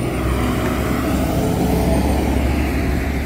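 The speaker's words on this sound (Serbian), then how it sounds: "rokaju kamioni" Heavy trucks roar steadily at a container unloading yard where cargo containers arrive from ships, a loud, continuous engine rumble with no talking.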